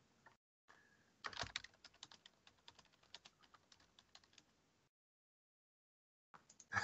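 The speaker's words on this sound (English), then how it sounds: "You'll hear typing as I type my questions." Rapid clattering keystrokes on a computer keyboard, quiet and close, in an irregular run before stopping, then a brief resumption at the end.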